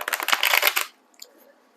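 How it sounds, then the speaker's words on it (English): Tarot cards being shuffled up close: a dense, crisp riffling flutter of card stock for just under a second, then near silence with a few faint soft rustles. "go to shuffle one more time"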